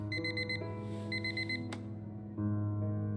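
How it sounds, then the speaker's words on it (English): An alarm clock rings inside the Fragments of Him video game, repeating bursts of high electronic beeps over a steady low ambient hum, with a brief sharp swish partway through. "Every day that alarm goes off."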